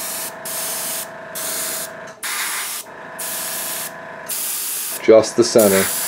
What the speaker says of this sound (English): Try not to talk too much over the compressor because it's going to start running constantly now.